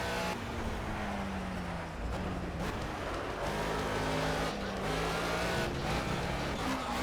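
Car engines rev loudly and steadily in a racing video game, with rising and falling tones and occasional tire screeches running through the whole stretch.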